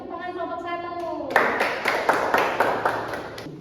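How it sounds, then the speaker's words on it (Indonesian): A classroom of children claps for a group during a lesson, beginning with a sung or spoken voice and then a burst of rhythmic, patterned clapping, close and lively, with voices mixed in. "Beri tepuk tangan kelompok 1"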